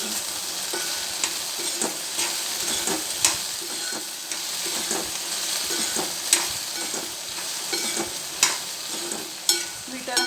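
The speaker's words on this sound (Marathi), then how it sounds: "हळद टाकल्यावर पण नंतर थोड्या वेळ हलवून घ्यायची" Okra in a pan being stirred after turmeric is added, with a soft continuous sizzle and repeated sharp spatula scrapes and taps at an uneven rhythm, close and fairly quiet.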